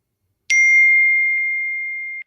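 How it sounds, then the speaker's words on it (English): A phone text notification sounds one loud, clear ding that rings out and slowly decays for almost two seconds, alone with no talk. "Your notifications are loud"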